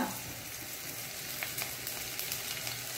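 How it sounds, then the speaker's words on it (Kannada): Onions, curry leaves and crushed garlic sizzle steadily in a hot pan, a close, continuous crackling fry with occasional small pops and stirring sounds, no talking over it. "ಈಗ ಎಲ್ಲವನ್ನು ಸಹ ಒಂದು ಒಳ್ಳೆ ಕಲರ್ ಚೇಂಜ್ ಆಗೋ ತನಕ ಈ ಈರುಳ್ಳಿಯನ್ನು ನಾನು ಫ್ರೈ ಮಾಡಿಕೊಳ್ತೇನೆ"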